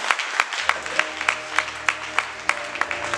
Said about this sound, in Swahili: Ongeza makofi nisaidie mchungaji.